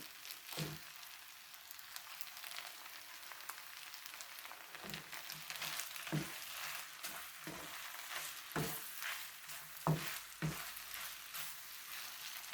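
Rice noodles stir-fried in a pan with egg and fish balls, giving a steady close sizzle and crackle throughout, punctuated by sharp scraping clanks of a spatula stirring every second or two.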